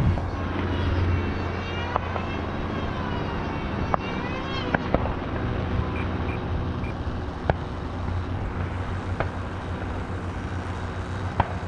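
A full-size airplane comes in on approach near a model-plane flying field, a steady engine drone with slowly shifting tones under wind noise, scattered clicks and people talking.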